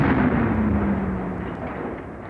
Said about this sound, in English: artillery barrages unlike anything seen before